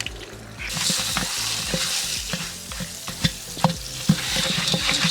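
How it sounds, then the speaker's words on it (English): Butter, coconut oil and popcorn kernels sizzle and fry in a pot while being stirred, a close, steady hiss with occasional scraping knocks of the utensil against the pot. "we're stirring this up while this is heating up"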